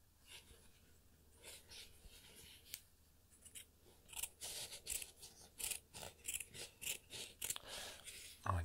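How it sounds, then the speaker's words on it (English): Scissors snipping through fabric in a quiet room, a steady run of crisp, close cuts that grow louder and more regular over several seconds, with faint soft breathing beneath. "Some fabric cutting sounds."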